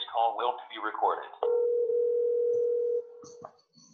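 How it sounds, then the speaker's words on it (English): Phone ringing tone on a Twilio forwarded call, a steady electronic tone lasting about a second and a half after a burst of speech, followed by brief clicks. "The phone is ringing."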